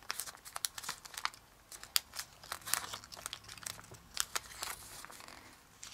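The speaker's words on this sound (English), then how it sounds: "Fold over the edge." Origami paper is folded and creased near the listener, producing soft irregular crinkles and sharper crackling snaps at a quiet level, with no voices.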